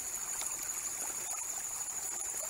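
Water running steadily from a spring-fed pool at a ram pump, a soft continuous trickle and gurgle outdoors with faint insect chirping in the background.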